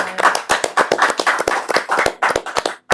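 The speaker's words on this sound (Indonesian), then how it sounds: "teman-teman boleh minta tepuk tangannya" A small audience claps at a talk event, the hand claps distinct and close, forming an uneven patter that stops briefly near the end.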